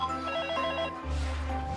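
A home telephone rings in a broadcast advert, a steady repeating electronic ring tone heard clearly and alone, with a deeper music-like tone rising underneath in the second half.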